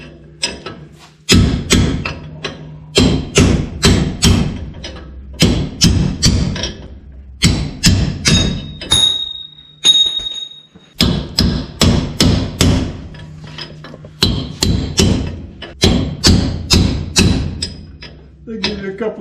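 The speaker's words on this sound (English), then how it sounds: "So I'm going to go ahead and just tap the race out." A hammer repeatedly strikes a bearing race to drive it out of a car's rear axle housing during a 3.08 gear and positraction install, with loud, sharp metallic blows in quick bursts separated by short pauses.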